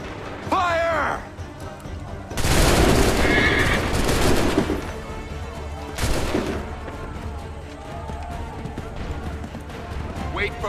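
Musket volleys ring out in Assassin's Creed III: a loud massed fusillade crashes, then a second sharp volley follows a few seconds later, with shouted commands, whinnying horses and battle noise around them.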